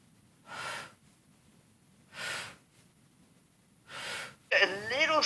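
A Pilates client exhales three times in slow, evenly spaced soft breaths, each about half a second long, during a remote session. A voice begins speaking right after the third breath.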